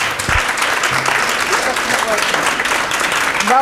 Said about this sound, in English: would you put your hands together and give Jasmina a warm round of applause and welcome